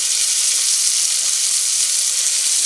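Curry leaves sizzle steadily in a hot pan while being sautéed for a chicken kulambu, a loud, continuous frying hiss with no pauses and no voices.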